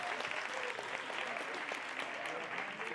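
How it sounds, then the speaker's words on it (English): Newly sworn-in SRC members and the audience at Walter Sisulu University's oath-taking ceremony clapping, a dense, sustained patter of many hands filling the hall at moderate volume. "Let's clap hands for yourselves."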